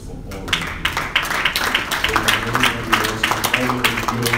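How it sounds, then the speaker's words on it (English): An audience applauds steadily, a mass of overlapping claps with sharper individual hand strikes standing out, while voices carry on underneath. "So just a round of applause for all of you."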